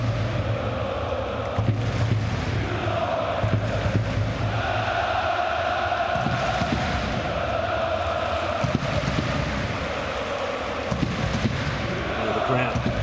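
At a Dynamo Dresden versus Arminia Bielefeld third-division football match, the Dresden stadium crowd chants in a loud, sustained, droning roar that fills the ground, with commentary heard over it.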